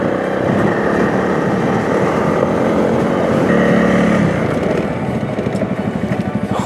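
Honda CRF 300L trail motorcycle labouring uphill on a steep climb, a steady loud engine drone with pulsing rhythm near the end, mixed with constant wind rush and no talk.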